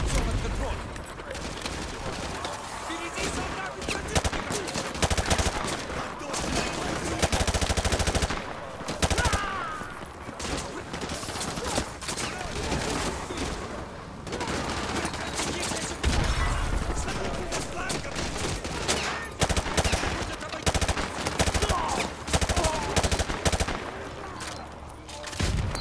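Rapid bursts of automatic gunfire and single shots crack through a Call of Duty: Modern Warfare 2 campaign battle, loud and near, with short pauses between volleys.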